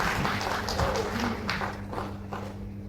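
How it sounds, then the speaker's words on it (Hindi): Welcoming applause from a crowd at an award ceremony, many hands clapping in a continuous, even wash, moderately loud and sustained over a low background hum. "एक बार जोरदार तालियां बजाकर उनका स्वागत करें"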